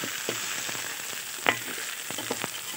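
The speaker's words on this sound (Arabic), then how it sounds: "وبرده هناخده تشويحه، يعني احنا هناخد كل حاجه تشويحه مع بعضها" Soaked ingredients for koshari sautéed together in oil in a single pot, giving a low, continuous sizzle with scattered light stirring clicks and one sharper scrape midway.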